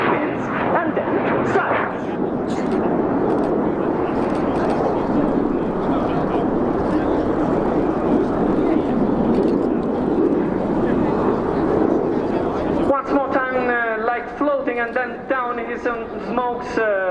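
An Aermacchi MB-339 jet of the Frecce Tricolori flies a solo aerobatic maneuver at the RIAT 2018 airshow, with a loud, sustained roaring rumble that ends abruptly as an announcer begins talking.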